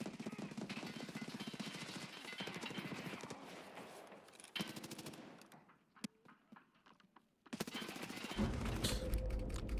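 Video game gunfire in rapid automatic bursts, loud and dense for the first half, then a few scattered shots before another heavy volley near the end.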